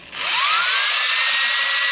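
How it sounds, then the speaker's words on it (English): A power drill fitted with a wire wheel spins up and grinds rust out of wheel lug nut holes. It gives a loud, steady high-pitched whir and scrape after a brief rising start. "mount our wire wheel in the drill"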